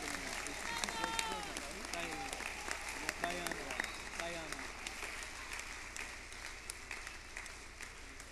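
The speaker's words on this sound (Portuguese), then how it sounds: "por favor, para receber os aplausos" Audience applause at a youth symphonic band concert, steady dense clapping throughout with cheering voices and calls over it in the first half.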